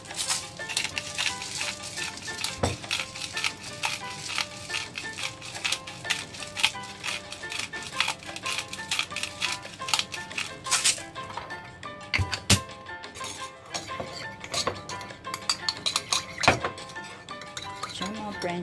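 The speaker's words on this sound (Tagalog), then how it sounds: "ihahalo natin yung ating garlic dito sa ating butter" Garlic is stirred into butter in a pan, producing frequent metallic scrapes and clinks of a utensil against the pan that repeat irregularly throughout, with an occasional sharp knock and sizzling underneath.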